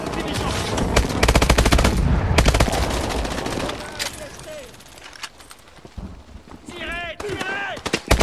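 Heavy gunfire in the video game Call of Duty Advanced Warfare, rapid automatic bursts cracking loud and close before tapering off, with voices speaking over the action.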